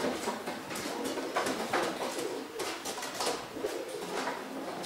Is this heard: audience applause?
no